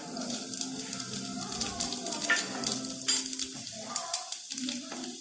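Fennel seeds, cumin, bay leaf, cloves and cinnamon dropped into hot oil for a paneer masala gravy, a close crackling sizzle with spattering pops and the scrape of stirring.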